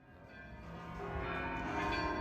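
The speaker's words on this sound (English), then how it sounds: "You can hear the bells in the background." Church bells in Santiago de Compostela ring in the background, sustained metallic tones layered and growing slightly louder, heard from a moderate distance without talk.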